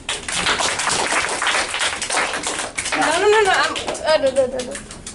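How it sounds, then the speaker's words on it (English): A class applauding a student after a relay presentation, a sustained patter of many hands clapping at close range, mixed with voices and a few squeaky exclamations toward the end. "Go ahead and clap it up for Lair's."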